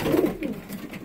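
Pigeons coo softly and close by in a winter loft, a brief low murmuring call with no talk.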